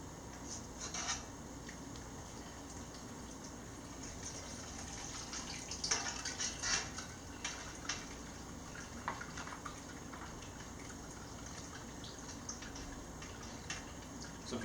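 Hot peach kettle-sour wort pours through a strainer, a steady watery splashing and trickle running throughout with a few brief clinks and scrapes.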